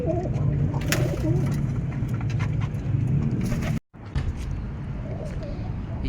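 Pet racing pigeons with CFU leg rings coo in a steady, low murmur close by, alongside faint rustling and outdoor background noise, with a brief dropout near the middle.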